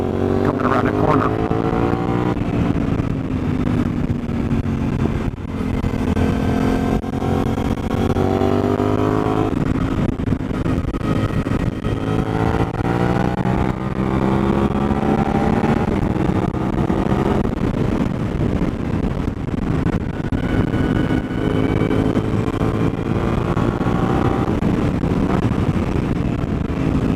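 A Suzuki DL-800 V-Strom motorcycle engine drones steadily on a test ride, its pitch rising and falling through repeated accelerations and gear changes, with constant wind rush over the close, loud engine note and no talk.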